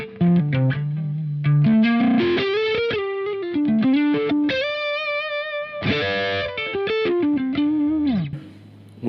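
Electric guitar played through a Vemuram Butter Machine overdrive pedal with tone controls set for a smooth sound, loud and sustained, with melodic runs and held distorted chords, no talking.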